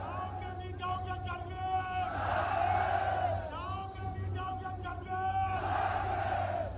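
A large crowd of protesters in Gilgit-Baltistan chants and shouts in loud, sustained bursts, with rising and falling slogan-like cries and steady background hubbub.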